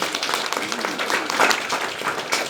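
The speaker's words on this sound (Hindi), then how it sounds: "प्रभु के लिए जोरदार प्रभु के लिए जोरदार तालियां" A congregation claps for the Lord during a church service in Shillong, a dense, continuous burst of applause at moderate loudness with some voices mixed into the clapping.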